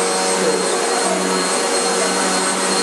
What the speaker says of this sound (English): my mom has to vacuum